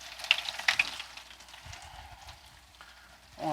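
Potato croquettes sizzle in a pan of hot oil, a soft, crackling hiss with a few sharp pops early on, swelling louder at the end as more go in.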